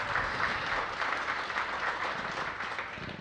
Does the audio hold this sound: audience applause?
yes